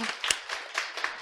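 Students in a real estate law class clap briefly and unevenly, a short scattered patter of hands lasting just over a second with no talking.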